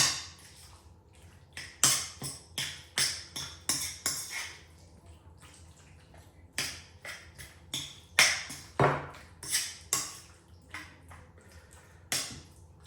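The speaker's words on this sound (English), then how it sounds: "Let's mix it really well." Raw chicken being stirred and tossed with a lemon marinade in a bowl, giving a string of clinking, tapping utensil knocks against the dish in irregular bursts with quiet pauses between them, close up and without speech.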